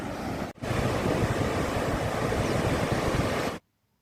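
Water pours through a gate of Tenughat Dam in Bokaro, Jharkhand, a loud, steady broadband roar that holds nearly unbroken for about three seconds after a brief dip, then cuts off abruptly.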